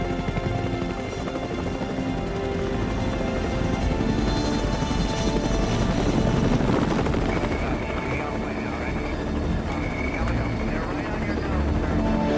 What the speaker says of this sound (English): I hear the drone of the helicopter engines.